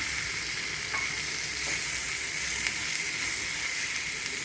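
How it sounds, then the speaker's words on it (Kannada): Cooked peas frying in a pan for vegetable cutlets, giving a loud, continuous close sizzle with faint stirring scrapes and no talking. "ಈಗ ಬೇಯಿಸಿರೋ ಬಟಾಣಿ ಹಾಕ್ಕೊಳ್ತಾ ಇದ್ದೀನಿ."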